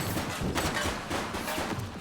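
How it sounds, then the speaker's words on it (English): Gunfire in a police video game, a dense, continuous spray of overlapping shots at moderate level throughout a couple of seconds. "He's shooting!"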